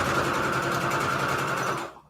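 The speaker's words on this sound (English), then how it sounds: "I'm going to sew this right here." A sewing machine stitching strips of fabric scraps into a patch, steady fast mechanical whirring and needle chatter running close and even, then stopping abruptly at the end.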